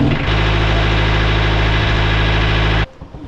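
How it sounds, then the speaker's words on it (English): A sailboat's engine, freshly repaired, starts and runs at a loud, steady idle with a constant low drone, then cuts off abruptly near the end. "First time trying the engine since the fix has been applied."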